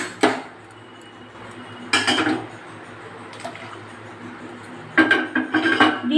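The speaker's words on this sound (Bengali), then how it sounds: "একটু চালটাকে দুধের সাথে হিলিয়ে নিলাম, মিক্স করে নিচ্ছি।" A spoon clinks and scrapes against a metal pot while rice is stirred into milk for kesari payesh, with sharp clattering knocks separated by quiet stretches.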